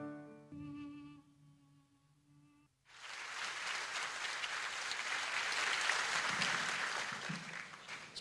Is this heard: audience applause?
yes